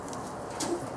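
A caged bird coos nearby during hunting-dog training, a short soft coo heard over a rustling, noisy background.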